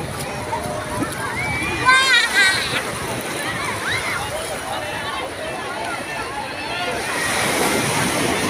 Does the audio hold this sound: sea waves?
yes